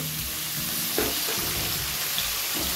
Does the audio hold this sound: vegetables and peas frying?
yes